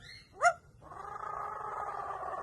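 A parrot mimics a cat: a brief sharp meow-like cry, then a long steady nasal tone that holds until the end, close and moderately quiet.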